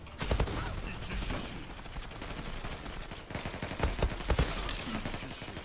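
An M4A1 rifle firing in the Zula online shooter: rapid bursts of automatic gunfire in close succession, fairly loud and punchy, repeating through the clip with brief pauses between volleys.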